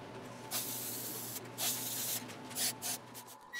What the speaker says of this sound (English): Three to four coats of spray-on poly will give it the protection it needs and that glossy look that we really like.